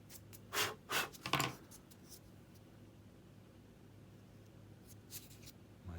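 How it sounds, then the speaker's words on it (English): A hobby knife blade is twisted inside a hole to trim plastic on an E-flite Timber X model airplane, giving three quick close scraping rasps followed by quiet and one faint scrape near the end. "Putting my hobby knife blade in the hole and just kind of giving her a little spin there after I've cut that brim off."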